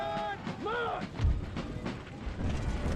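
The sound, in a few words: artillery fire in video game Empire: Total War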